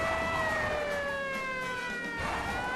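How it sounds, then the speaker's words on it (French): A police siren wails in the Cars video game, its pitch sweeping steadily down and back up, loud and continuous over engine rumble, with no talking. "Les sirènes sont enclenchées."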